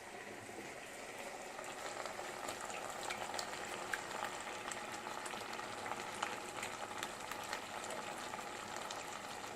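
Tomato and chili pasta sauce is poured over browning minced beef in a pan, giving a steady bubbling, sizzling cook with faint liquid pops and no talking.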